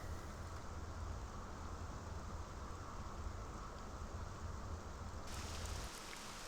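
Steady rainfall in the video game Morrowind forms a dense, unbroken hiss that holds at an even level for the full stretch, with a faint low rumble underneath and no voices.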